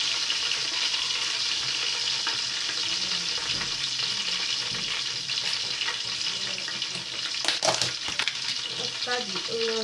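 Onions for vegetable yam porridge fry in a pot with a continuous crackling sizzle, joined by a few louder scraping stirs near the end.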